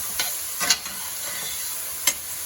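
Onions sizzle in a pan with a soft, even hiss, broken by a few distinct scrapes and clicks as they are stirred, close and fairly quiet, with no talking.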